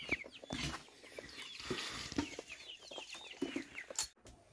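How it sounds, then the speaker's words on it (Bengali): Quiet, high chick peeps repeat rapidly and continuously, with occasional hen clucks and soft thumps nearby. "মুরগি বাচ্চাগুলো এখানে পি পি পি পি করছে খালি"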